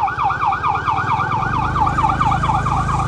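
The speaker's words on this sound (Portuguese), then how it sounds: "Olha só, a ambulância" An ambulance siren wails steadily on a street in Itacoatiara, Brazil, in a loud, fast-cycling rising and falling tone that stays close throughout, with vehicle rumble underneath.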